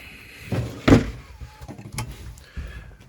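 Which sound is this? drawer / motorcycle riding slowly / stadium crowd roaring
drawer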